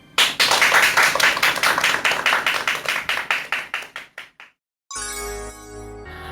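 A lecture audience claps in a quick, regular rhythm to welcome a speaker. The crisp claps thin out and fade to silence after about four seconds, and a ringing chime-like musical tone follows.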